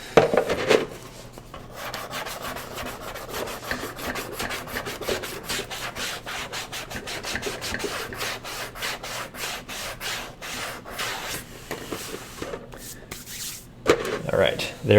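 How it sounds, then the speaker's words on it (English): Steady rasping scrape of a knife shaving wood, continuous and close for most of the clip, with brief louder handling noises at the start and end. "I'm just going to run my knife along this just to shade this a little bit."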